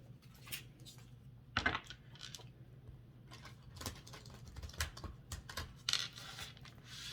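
Soft papery flicks and riffling bursts of tarot cards being shuffled by hand come in irregular clusters, close and quiet, with no voices.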